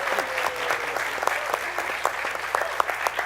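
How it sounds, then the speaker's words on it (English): Audience applause for a fifth-place winner at a Shark Tank-style pitch event, a moderate crowd clapping with distinct individual claps audible in an even patter, fairly quiet and continuous. "please give a round of applause to Jeremy Erdman"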